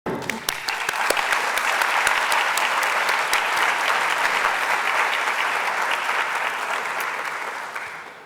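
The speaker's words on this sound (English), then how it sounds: "And we really want to applaud you." A large audience at a school awards ceremony bursts into sustained, dense applause that swells and holds steadily for several seconds before fading slightly at the end, loud and full with scattered sharp claps standing out.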